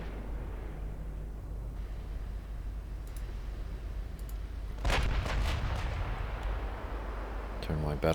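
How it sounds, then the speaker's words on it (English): A battleship broadside in Ultimate Admiral Dreadnoughts thunders as one heavy booming salvo partway through, rolling into a long rumble over a low naval drone, with a further blast at the end. "My battleship's broadside."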